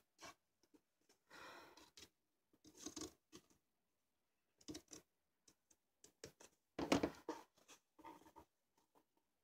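Scissors snip in short, irregular bursts of crisp cuts through craft material, close and fairly quiet, with silent gaps between.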